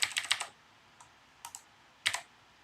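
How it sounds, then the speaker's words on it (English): Fingers tap on an iPad mini touchscreen keyboard, a quick cluster of soft clicks followed by a few scattered single taps, close and quiet. "To type on this screen"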